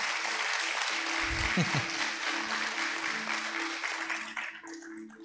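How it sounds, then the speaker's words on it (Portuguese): A church congregation at a Sunday communion service applauds in a dense, sustained burst that tapers off near the end, with a low voice and a held musical tone underneath. "Dá uma salva de palmas ao Senhor Jesus por isso"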